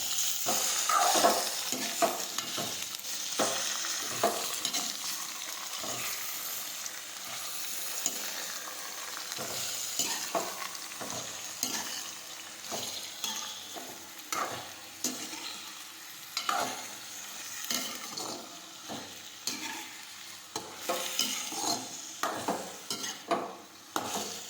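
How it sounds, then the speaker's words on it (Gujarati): Chopped okra and tomatoes are sautéed in a pan, a continuous sizzle broken by rhythmic scraping strokes of a spoon against metal, close and fairly steady throughout. "સમારેલો ભીંડો નાખીશું. ટમેટા નાખીશું સમારેલા. હવે આપણે સાતળી લઈશું."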